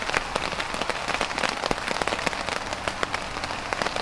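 Rain patters steadily on a tarp over a hammock camp in a woodland, with dense close drops and sharper taps landing throughout, no voices.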